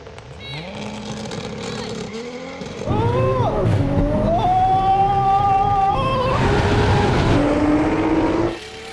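Nissan GT-R cars, up to 1600 horsepower, launching in a standing quarter-mile drag race, with loud engine notes climbing in pitch through gear changes and a steady roar that drops away near the end.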